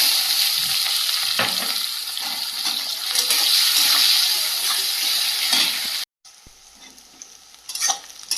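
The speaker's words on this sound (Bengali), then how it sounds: "পেঁয়াজটা ভাজা ভাজা হয়ে গেছে" Onion sizzles while frying in a pan with whole garam masala, cloves, cinnamon, cardamom and cumin, a steady close crackle with stirring scrapes before a brief cut and a quieter stretch.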